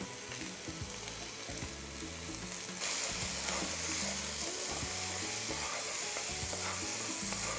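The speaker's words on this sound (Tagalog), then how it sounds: "pagkalagay nga ng sitaw, itinutuloy ko pa yung pagluto dito for another 2 minutes" Chicken and long beans sizzle and fry steadily in a pan, a constant close hiss with occasional stirring, growing louder partway through, with no talking.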